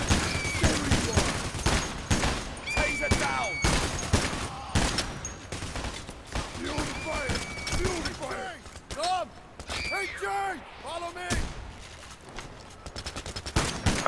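Gunfire in the heist video game Payday: The Heist, rapid bursts of automatic shots crackling through the whole stretch, with shouted voices and scattered tonal effects mixed in.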